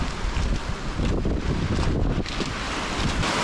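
Wind and waves on a very large lake, the Obersee part of Lake Constance on the Swiss border, with steady broadband gusting buffeting the microphone and surf washing beneath it, loud and continuous throughout.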